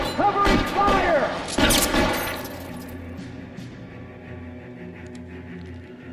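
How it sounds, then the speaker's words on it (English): Gunfire in an action video game breaks out in a quick fusillade of shots with shattering impacts, loud and dense at first, then trailing off into a low ambient rumble. "Covering fire!"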